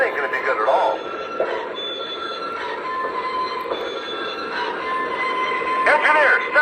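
A Lionel model freight train rolls steadily along its track with a faint clattering hum, while voices talk over it and a brief squeal rises near the end.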